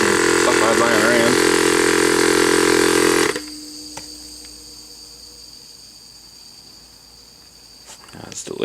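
An old 12V air compressor, just repaired for a cylinder leak, runs loud and close with a steady buzzing drone for about three seconds before cutting off to a quiet hiss and faint background.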